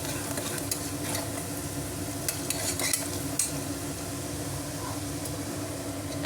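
Turmeric and tomatoes fry in a pan for egg pulusu, producing a steady, dense sizzle with scraping stirring strokes and a few soft clicks of utensil on metal; no talking.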